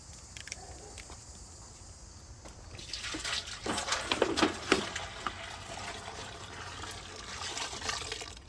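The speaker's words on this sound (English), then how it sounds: "we're going to add a couple gallons of milk." Milk, a couple of gallons, pours into a bear bait brew, a soft trickle at first swelling into a louder, splashing liquid gush for several seconds, heard alone without speech.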